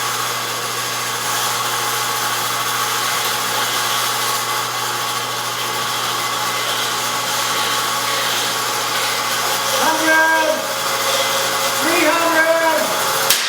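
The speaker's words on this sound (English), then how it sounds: "So here we got the machine on, the pressure's coming on" A spar stress testing machine applies pressure with a loud, steady mechanical drone that holds throughout, joined near the end by a couple of brief rising whines.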